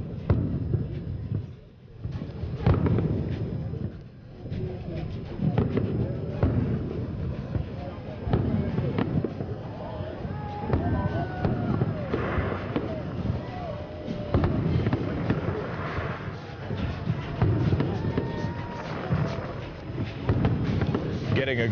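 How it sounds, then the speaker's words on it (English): Fireworks crackle and thump in repeated bursts over Las Vegas before the November 2007 implosion of the Frontier hotel, heard from a distance with wind noise. Someone talks over much of it. "2 more minutes now of fireworks, and then the grand implosion of the Frontier"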